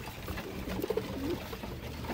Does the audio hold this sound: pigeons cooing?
yes